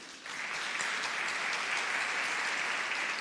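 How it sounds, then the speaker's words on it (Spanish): Steady, dense congregation applause in a church, rising quickly and holding at an even level throughout, with no talk over it. "¿Cuánto le dan un aplauso a Jesús?"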